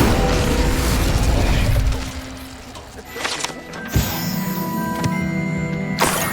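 An Incendio fire spell cast in Hogwarts Legacy, a loud whooshing burst with a booming crackle that flares up mid-scene and then fades into ringing magical tones, with no talking over it.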